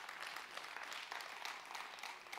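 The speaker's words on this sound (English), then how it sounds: "Let's give her a big round of applause." Audience applause at a talk, a soft, distant wash of many hands clapping that holds steady for a couple of seconds.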